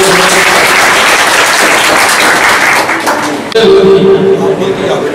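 Loud, dense clapping from a small gathering at a local event in Vidisha, continuous through the clip, with a voice rising briefly near the end.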